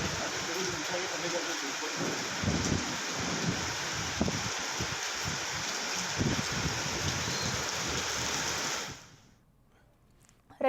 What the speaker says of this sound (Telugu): అంజుమ, మనం చూసుకున్నట్టయితే రాత్రి నుంచి కూడా హైదరాబాద్ వ్యాప్తంగా పలు ప్రాంతాల్లో వర్షం అయితే కురుస్తుంది.